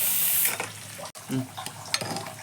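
Boiled taro goes into a pan of pork curry. Soft wet plops and scraping stirs sound over a steady sizzle, close by, with a brief clatter of the spoon against the pan.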